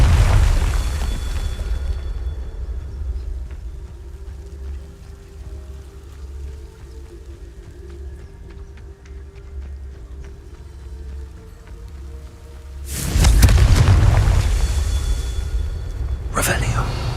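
Confringo fire spells from Hogwarts Legacy burst into loud booming explosions, one at the start and a heavier blast near the end, separated by a low rumbling ambience with faint talking.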